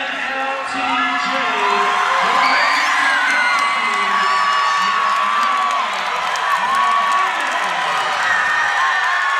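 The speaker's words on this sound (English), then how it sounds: "You hear the absolute raucous crowd" A raucous crowd at a Hardrock MMA 97 headline professional featherweight fight roars, cheers and whoops continuously, with shouting voices rising out of the din, loud and close throughout.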